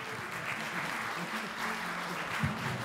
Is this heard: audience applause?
yes